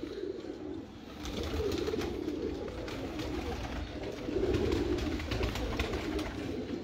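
Steady low pigeon cooing repeats close by in gentle rolling phrases, with a soft background hum throughout.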